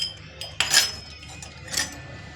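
Small tea cups clink as they are handled, a few bright ceramic taps close by, two clusters about a second apart over a quiet room.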